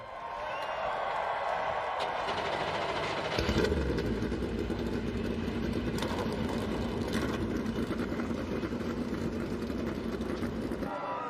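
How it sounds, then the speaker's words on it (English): NASCAR race car engines starting and roaring at Talladega Superspeedway for the 2024 Geico 500, a dense, loud, continuous rumble that swells sharply a few seconds in and holds steady with crowd noise. "Drivers, start your engines."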